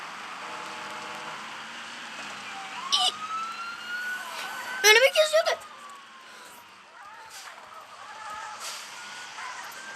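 A police siren wails in the distance over steady street noise, with a voice calling out briefly partway through and some sharp clatter.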